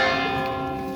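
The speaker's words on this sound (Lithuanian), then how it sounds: "Varpas muša čia" A church bell rings in a town square, its sustained tolling tones filling the short moment loudly and steadily with no voices.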